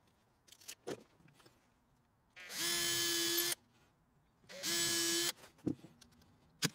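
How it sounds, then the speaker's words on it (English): Two bursts of a power drill whirring at steady pitch, each about a second long, close by, drilling gate posts for cedar-clad gates, with faint knocks and handling noise between. "So we're going to drill, bolt and screw these now"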